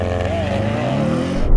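A Lamborghini Aventador and a 700 hp Audi RS7 launch in a drag race with wheels spinning, giving a loud, close engine roar that rises in pitch and swells toward the end, with no voices over it.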